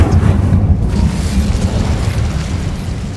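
The Incendio fire spell is cast in the video game Hogwarts Legacy, producing a loud, sustained, rumbling fiery boom that fills the whole moment with no voices.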